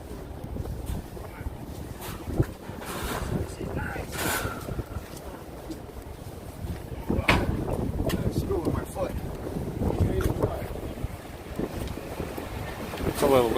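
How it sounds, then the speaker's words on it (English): Steady wind buffets a handheld microphone outdoors on a New York City street near Hudson Yards and the High Line, a continuous rumbling roar with gusts that swell louder partway through, and city background beneath it. "It's a little windier here all of a sudden."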